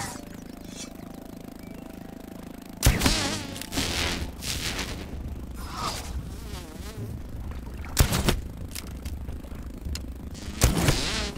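Mosquito buzzing in the survival video game Grounded, a steady insect drone running under the game's background audio, broken by several sharp loud hits and impacts.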